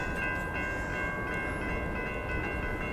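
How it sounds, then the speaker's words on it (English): Train rolling past a station platform, a steady loud rumble with sustained high tonal ringing, constant throughout and close by, with no talk. "Oh, here comes the train."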